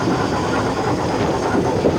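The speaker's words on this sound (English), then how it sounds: "I'm listening to the rail joints for my speed." A steam express train runs over rail joints with a continuous loud rumble and faint rhythmic clicking, heard close from the footplate with no talk.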